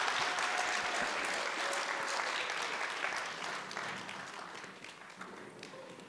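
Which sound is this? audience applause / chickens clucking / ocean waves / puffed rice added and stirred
audience applause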